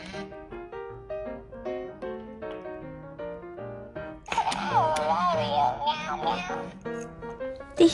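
A Hatchimal Hatchibabies toy voice chirps a playful, meow-like melody, then a brighter, wavering cat-like sound rises louder toward the end.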